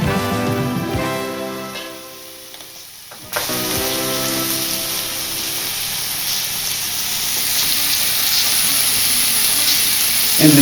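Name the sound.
half-boiled potatoes searing in butter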